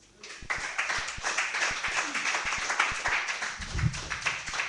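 A live audience at a Dalymount Sessions poetry performance breaks into applause, close distinct handclaps standing out over a thick crowd wash, with a low thump or voice near the end.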